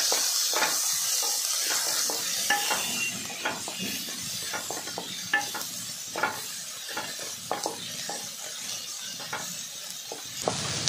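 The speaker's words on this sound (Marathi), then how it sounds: "व थोडीशी कस्तुरी मेथीची पावडर घालायची आहे व चांगलं हे आता परत परतून घ्यायचं आहे 2 मिनिटं" A spice mixture with grated fresh coconut and kasuri methi powder sautéed in a pan, a quiet sizzle under repeated scraping and stirring strokes from a utensil, close and free of talk.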